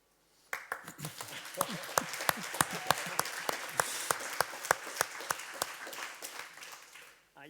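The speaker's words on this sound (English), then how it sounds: "You get the claps because you were very kind to me." A conference audience applauds after a talk on corporate governance and a sustainable economy, a dense run of clapping that swells, holds with sharp individual claps cutting through, then fades.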